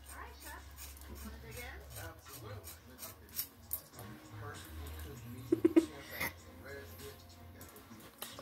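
Scissors snip hair during a first haircut, a few quick close metallic clicks bunched near the end, heard amid rustling and under talk.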